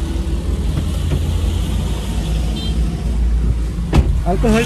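Motorized tricycles and other traffic pass along a street, making a loud, continuous engine rumble with low mechanical drone throughout and a brief rattling burst near the end.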